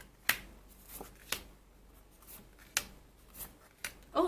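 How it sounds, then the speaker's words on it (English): Tarot cards being arranged and shuffled by hand, with soft, scattered taps and sharp flicks of card on card, quiet and close with pauses between them, no talk. "Let me arrange the cards first."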